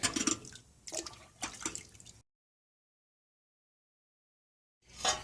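A carburetor part from an Evinrude 40 HP outboard is sloshed up and down in cleaning liquid, making a few close, wet swishing bursts, then a silent pause and one more splash at the end.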